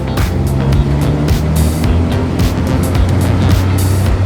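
A Jeep Wrangler YJ engine drones steadily while driving in first gear, a loud continuous rumble with low harmonics and faint road noise, no voices.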